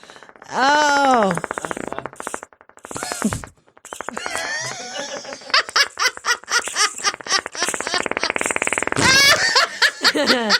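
A person imitates a fart with their mouth, producing drawn-out buzzing raspberry sounds, followed by bursts of loud laughter and giggling from several people, close and lively.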